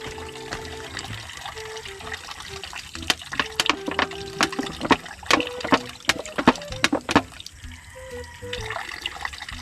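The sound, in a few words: water flowing from a DIY deep well pressure pump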